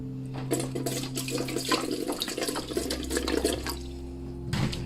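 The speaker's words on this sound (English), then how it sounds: "Add my vinegar too before we put the layering tray on." Vinegar being poured into shallow water in the bottom of a pressure canner before jars of meatloaf go in, a steady trickling, splashing pour running nearly five seconds with a brief extra splash at the end.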